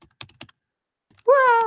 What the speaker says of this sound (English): I can go ahead and type in a person's name